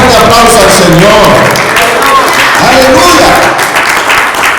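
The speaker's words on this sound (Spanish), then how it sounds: "¿Cuánto le dan un fuerte aplauso al Señor?" Church congregation applauding loudly and steadily throughout, with cheering voices and shouts mixed into the dense clapping.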